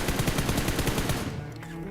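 Rapid automatic gunfire sprays in a fast, continuous burst from a weapon in a Hindi-commentated shooter game, loud and close, then cuts off abruptly into quieter background.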